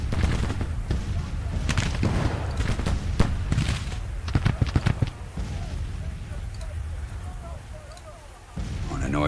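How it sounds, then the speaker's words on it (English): Artillery batteries fire across a Civil War battlefield in Grand Tactician, sharp booms and cracks popping repeatedly over a steady rumbling din, loudest in the first half and thinning toward the end. "Batteries are firing"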